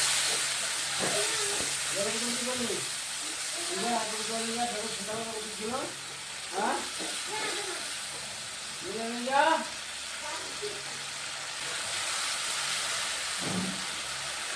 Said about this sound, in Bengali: দু 3 মিনিট মিডিয়াম আঁচে হালকা করে ভেজে নিতে হবে